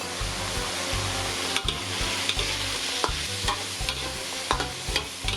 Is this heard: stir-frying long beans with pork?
yes